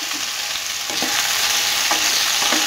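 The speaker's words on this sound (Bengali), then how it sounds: "হাই হিটে রেখে কন্টিনিউ নাড়াচাড়া করে 1 মিনিটের মতো কুলটা আমি একটু তেলের সাথে মজিয়ে নেব।" Split jujubes with turmeric and salt fried on high heat in hot mustard oil: the sizzle swells suddenly, then holds loud and steady while spoon strokes scrape through it every second or so.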